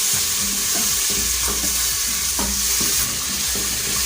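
Grated tomato and a little tomato paste hitting a hot pot of lentils in an electric pressure cooker, sizzling loudly and steadily, with scraping stirring strokes repeating through it.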